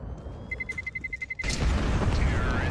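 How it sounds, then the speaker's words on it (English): A grenade explodes in Counter-Strike during a European Pro League match. A rapid series of beeps comes first, then a loud, heavy blast that cuts in and rolls on as a thick rumble. "Good nade there"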